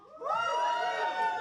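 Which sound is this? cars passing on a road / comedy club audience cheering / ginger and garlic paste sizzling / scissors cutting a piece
comedy club audience cheering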